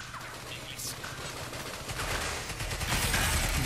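Rapid bursts of Crysis 3 gunfire crackle at a moderate distance, sharp repeated shots fired in quick succession at indestructible glass.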